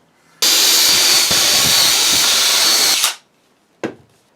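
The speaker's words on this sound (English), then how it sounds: "I also have to countersink these down a little bit further because these will be running against the planer bed" A power drill countersinks screws into a thickness planer jointing sled: one loud, steady whir lasting about two and a half seconds, spinning down, then a short final burst.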